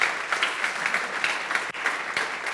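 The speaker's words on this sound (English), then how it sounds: "So please give you a huge applause to these guys." Audience applause at the Welcome to JBCNConf 2016 conference, a dense steady patter of many hands clapping close by, holding evenly for a few seconds with no voices over it.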